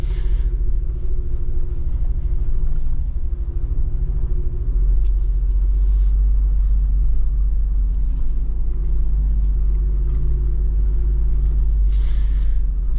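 A Jeep Wrangler Rubicon 392 crawling along an off-road trail through mud puddles in rain, a steady loud low engine rumble from inside the cab with no one talking.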